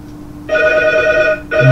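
A telephone rings loudly in two electronic bursts on a Polish prize game show, a long tone followed by the start of another.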